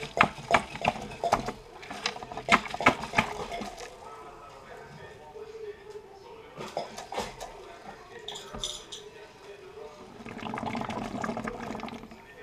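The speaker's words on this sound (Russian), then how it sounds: "Отсосем последнюю воду" An aquarium siphon draws the last dirty water out of a rainbow crab tank, with gurgling, sloshing water and hard clinks and knocks against glass. The sound is near and uneven, then settles into a steadier rushing flow.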